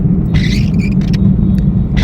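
Inside a vehicle crawling through heavy road traffic, a loud low engine rumble drones on without a break, while faint higher noises from nearby vehicles flicker above it.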